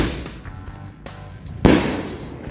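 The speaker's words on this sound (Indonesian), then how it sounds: "Itu dia hasilnya dari mercon Happy Thunder guys." Happy Thunder firecrackers go off in a few scattered pops, then one loud close bang rings out and decays, with no talking.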